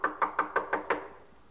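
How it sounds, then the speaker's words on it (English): Six loud, evenly spaced knocks land on a front door in quick succession, each one sharp and close, and then the room falls quiet. "he heard a knock on the front door"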